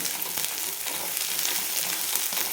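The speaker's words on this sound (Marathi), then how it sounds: "छान परतून घ्यायचं फक्त एक मिनिटभर आपल्याला परतून घ्यायचं" Masala sautéing in a pan for chicken curry, a steady close hiss and crackle of frying with faint stirring, continuous and even, no voices.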